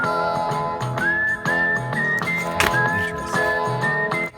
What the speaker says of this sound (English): this album is all him with orchestras whistling around the world.